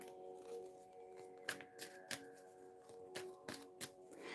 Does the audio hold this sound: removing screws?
no